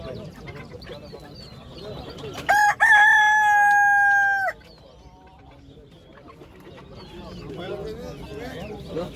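A single loud rooster crow rings out clearly for about two seconds, set against a murmur of nearby voices and farmyard background at a bird market in Edirnekapı, Istanbul.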